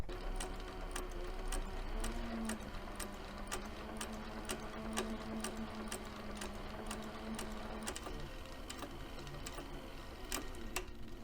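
A leather backpack is stitched on a sewing machine, whose needle taps in a steady, even rhythm with a soft motor whine under it, recorded close and fairly quiet with no speech.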